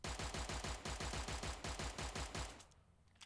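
A Beretta 92 FS pistol fires in a video game as a rapid, even string of about twenty close, loud shots, each with a short, sharp report, ending in a brief quiet tail.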